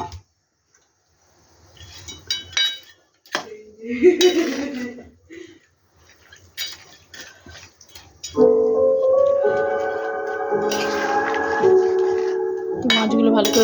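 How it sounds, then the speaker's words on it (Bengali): Fish slid into a pot of Bengali mustard fish curry (parshe macher jhol), with metal clinks and scrapes of a utensil against the pot, then a sustained steady sizzling bubble as the fish cooks, close and fairly loud. "এবার মাছগুলো সব দিয়ে দেবো।"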